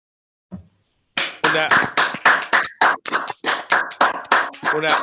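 An audience claps together at a round-table panel on problematic substance use, a steady run of loud, closely spaced claps that starts after a brief faint knock and carries on alone without talk.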